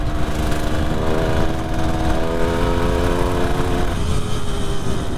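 1973 Kawasaki S2A 350 three-cylinder two-stroke motorcycle idling close by, a steady buzzing, burbling drone with no speech.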